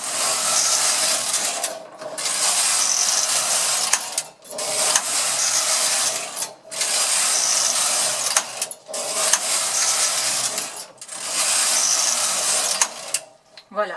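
Silver Reed knitting machine knitting rows of pink yarn, its carriage sliding back and forth in repeated loud whirring passes of about two seconds each, separated by brief pauses, with faint speech in the background.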